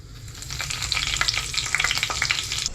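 Chillies frying in hot oil in a home kitchen for egg bhurji, a steady close sizzle with dense crackling pops and spits throughout, no voices.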